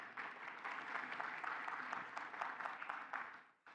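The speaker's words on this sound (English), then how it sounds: "Please give yourselves a round of applause." Audience applause at an airport expo and job fair opening session, a steady wash of many hands clapping at moderate distance, tapering off and dropping away near the end.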